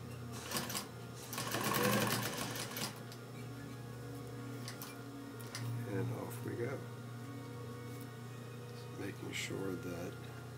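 A sewing machine back-stitches seams on a jeans quilt, its rapid mechanical stitching whirring in short bursts close by with pauses between, over a steady low hum.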